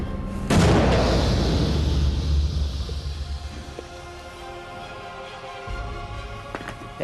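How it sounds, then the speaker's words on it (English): A gunpowder cannon fires a ball in a single loud, close boom with a sharp onset, followed by a long rumbling decay and fading echo, with no one talking. "Yeah, that worked like a cannon should work."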